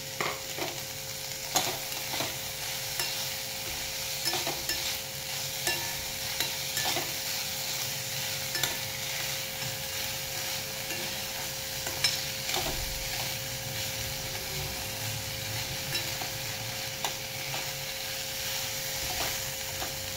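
Fresh, sprouted green moong beans are sautéed in a pan, a continuous low sizzle broken by regular scraping and clacking as a spoon stirs them, for about twenty seconds without talk.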